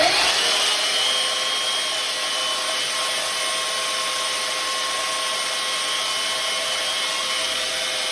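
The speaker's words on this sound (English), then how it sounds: "So I'm gonna turn it on and I'm gonna sharpen up my maul." A power grinder sharpens a maul, giving a continuous, loud, steady whine with a slight dip at the start and then an even drone throughout, with no one talking.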